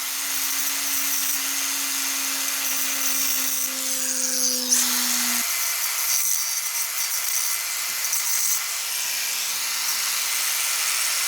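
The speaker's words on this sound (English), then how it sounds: "The bottom of the crack was very thin, so we expanded it using an angle grinder." An angle grinder cuts into a thin concrete foundation crack to widen it, a harsh whining grind with a steady tone that suddenly stops midway, after which only a faint spin-down and light scraping remain.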